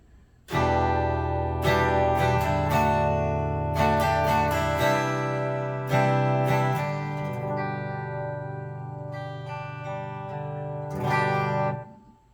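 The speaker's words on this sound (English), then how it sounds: "I love that twangy bridge sound." A bright, twangy electric guitar on the bridge pickup of a Leo Jaymz Les Paul-style guitar strums chords, letting them ring out between strums, with a final strum that fades at the end.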